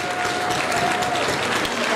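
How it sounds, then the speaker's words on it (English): A crowd at a boxing event claps steadily throughout, dense and even, with some faint voices mixed in. "please give both of these gents a round of applause"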